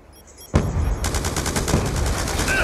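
Light machine gun fire in Call of Duty, a sudden loud burst after quiet ambience, then a steady rapid stream of close shots continuing to the end.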